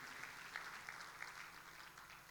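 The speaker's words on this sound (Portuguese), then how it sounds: "Dê um aplauso a ele." A church congregation applauding during a sermon, a faint, steady patter of clapping heard from a distance.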